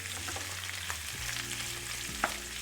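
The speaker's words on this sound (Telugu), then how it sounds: "వీటిని మొత్తం సాఫ్ట్గా చేయకుండా కొంచెం క్రంచీగా కచ్చా పచ్చాగా ఫ్రై చేయాలన్నమాట" Large pieces of onion and capsicum fry in a pan for paneer fry, giving a steady bright sizzle with a brief spoon clink near the end, close by and with no talking.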